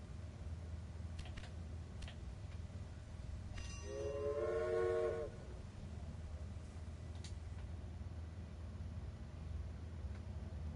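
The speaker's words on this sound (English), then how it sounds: "Now assemble a new train and give it a locomotive and a rail line." A train in the railroad management game Railway Empire rumbles along steadily while a clear, loud horn sounds once for about two seconds midway, over a continuous low rolling drone with occasional faint clicks.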